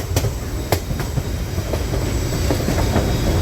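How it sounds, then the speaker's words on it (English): Tourist train from Skagway toward Whitehorse, Alaska, rolling along beside a river, with a loud steady rumble and rhythmic clickety-clack of wheels over rail joints, heard from on board. "We are on a train ride."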